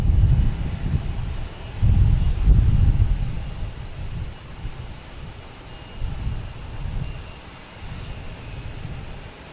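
A Delta Embraer E175 regional jet takes off at Boston Logan Airport, giving a steady, fairly distant low engine roar that swells and eases, mixed with light wind noise.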